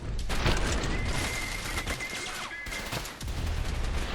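Rapid pistol gunfire crackles in the shooter video game Trepang2, a dense run of sharp shots with booming impacts and mechanical clicks, loud and continuous over about four seconds.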